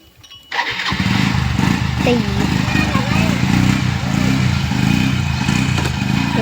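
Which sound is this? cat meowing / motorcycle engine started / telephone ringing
motorcycle engine started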